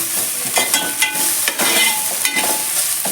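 Fresh ginger garlic paste frying in a pan for eggplant biryani, a steady loud sizzle broken by several scraping stirs of a spoon, with no voices.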